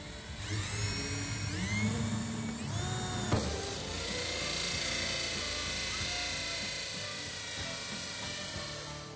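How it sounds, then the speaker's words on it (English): A steady high-pitched mechanical whine of a drill grinding through the thin metal of a Masterbuilt charcoal smoker, rising and falling in pitch, continuous and close with a harsh edge. "place your drill, and begin cutting"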